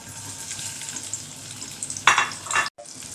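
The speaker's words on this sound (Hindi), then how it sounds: "अभी हम घी डाल रहे हैं मिर्चों को फ्राई करने के लिए डाल रहे हैं।" Green chillies frying in hot ghee in a pan, a steady soft sizzle with a couple of louder crackling bursts near the end before a sudden cutoff.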